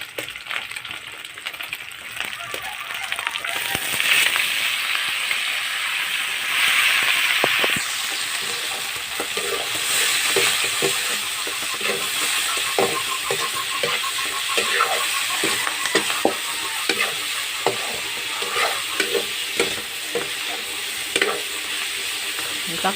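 Bitter gourd (ampalaya) sautéing with leftover food in a pan, giving a steady close sizzle and frying hiss with intermittent stirring clatter.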